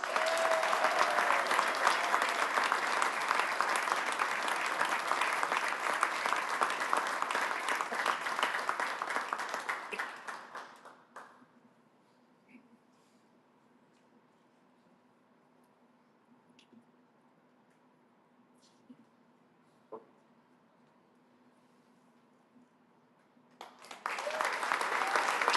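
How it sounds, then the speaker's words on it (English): Audience applause at a Nashville SC Unified Team event: loud, dense clapping for about ten seconds, a stretch of near silence with faint room tone and a few small taps, then a fresh burst of clapping at the end. "Can everybody please give a huge round of applause for Dylan Butts?"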